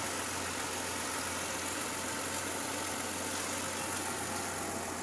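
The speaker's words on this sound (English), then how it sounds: "Engine is extremely smooth. It's like a sewing machine." A 1952 Studebaker Champion engine idles smoothly and steadily, a constant low hum with even vibration and no revving, heard up close.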